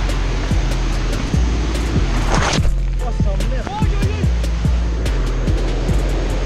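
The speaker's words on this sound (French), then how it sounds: "Mode ralenti là, avec les vagues qui tombent ralenti." Rushing surf fills the background with a steady broadband wash, a louder crash surging briefly midway, while faint voices speak over it.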